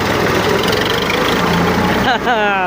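A tractor engine idles nearby with a loud, steady low rumble throughout; a brief voice rises over it near the end.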